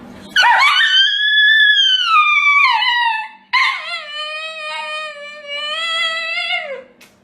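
A dog answers with two long, drawn-out howls that rise and fall in pitch, whining and wavering, loud and close with a short break between them.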